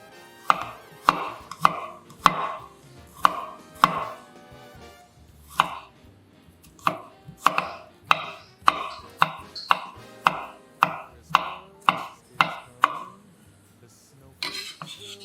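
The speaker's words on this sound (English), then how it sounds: "First, chop 2 cloves of garlic." A knife chops garlic cloves on a cutting board in a home kitchen, giving close, crisp, regular thuds in steady bursts of about twenty strokes with short pauses between runs and no talking.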